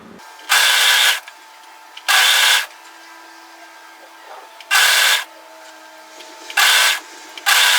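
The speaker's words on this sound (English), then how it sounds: "just overlock those three edges together, make sure you catch them all" An overlocker serges three fabric edges together on a cocoon shrug cardigan, running in four short, loud whirring bursts separated by quiet pauses with a low hum.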